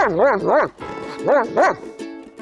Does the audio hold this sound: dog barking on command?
yes